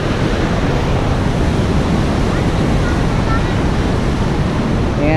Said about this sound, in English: get out of the crowd and out of the roar of the water